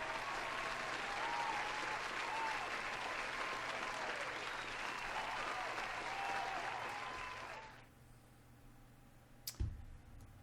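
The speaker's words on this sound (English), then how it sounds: "Here's another round of applause." An audience claps steadily for several seconds, a dense, even wave of applause that then fades out, followed by a couple of sharp clicks.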